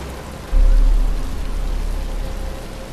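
Rain beginning to fall in the Batman Arkham Asylum video game, a steady broadband hiss of rainfall that swells abruptly about half a second in and then continues evenly, with a low rumble underneath.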